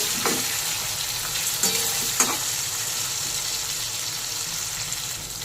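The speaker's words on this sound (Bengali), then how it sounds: "এবার আলু আর পেঁয়াজ একটু ভেজে নেব।" Potatoes and onions sizzle in a pan alongside chopped tomato, a steady frying hiss broken by a few brief scraping stirs near the start.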